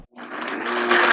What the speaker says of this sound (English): I am going to grind the onions, ginger, tomatoes and garlic in a grinder jar and make a fine paste